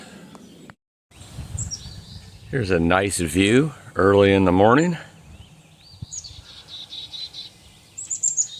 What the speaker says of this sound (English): Birds singing their beautiful songs.